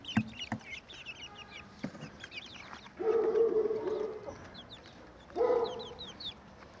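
Chicks clucking and murmuring nearby in a coop yard, with two louder bursts of clucking, while small birds chirp faintly in the background.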